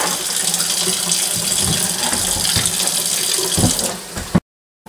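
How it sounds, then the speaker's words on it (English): Hot water runs steadily from a tap to sanitize a Cooper DIY home brew kit, a loud continuous splashing gush that cuts off abruptly near the end, with no voices. "I'm just using hot water right now"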